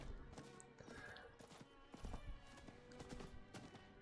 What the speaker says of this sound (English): But I can ride the horse, so we're good.